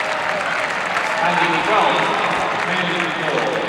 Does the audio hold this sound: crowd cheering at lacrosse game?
yes